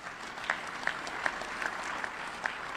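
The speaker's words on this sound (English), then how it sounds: "please give him a round of applause" An audience claps at a Hall of Fame induction ceremony, a steady moderate round of applause with a few sharper individual claps standing out in a regular pattern, no voices over it.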